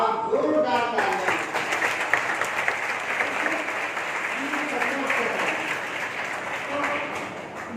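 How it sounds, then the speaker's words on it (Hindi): An audience at a college day event gives loud, sustained applause in honor of the teachers, steady clapping filling the hall while a voice carries over it. "तमाम असातिज़ा के लिए आप जोरदार तालियां"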